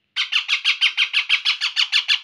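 Baby parrots squawk about a dozen times in a steady, rapid series before hand feeding, each call loud, harsh and close, with no talking over them.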